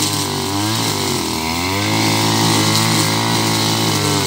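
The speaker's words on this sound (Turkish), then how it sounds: "Motorlu testerenin misine ağzı ile yapmış olduğumuz temizleme işleminde" Oleo-Mac petrol brush cutter with a nylon line head clears weeds under hazelnut trees, its two-stroke engine droning loud and steady with a rising and falling pitch as the line cuts through growth.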